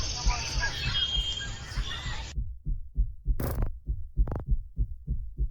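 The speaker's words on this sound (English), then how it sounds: "I don't like the heartbeat sound effect either." A heartbeat sound effect from the Vita Carnis horror series thumps in steady, evenly spaced low pulses, starting after a stretch of hissing noise and continuing prominently, with a couple of brief sharp accents among the beats.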